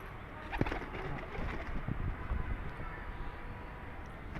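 Pet pigeons, including Kashni and Babra birds, coo softly in a loft amid steady background noise, their low calls faint and intermittent.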